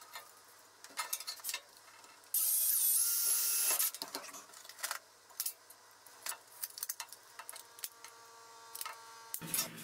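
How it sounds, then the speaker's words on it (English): Setting 3/16 aluminum pop rivets with a rivet tool while modifying an electric bike brings sharp, close metallic clicks and snaps with scattered handling rattles. A loud steady hiss burst runs for over a second partway through. "I'm just gonna throw a couple rivets in it"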